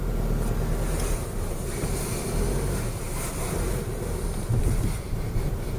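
A used VW Golf driving along with a steady broadband rumble of road and wind noise, faint suspension rattles buried in the continuous din.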